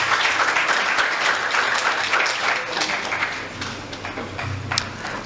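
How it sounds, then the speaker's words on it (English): Audience applause at a university postgraduate award ceremony, dense sustained clapping from a large crowd that stays loud and then eases slightly toward the end, with a few sharper individual claps. "A round of applause, please."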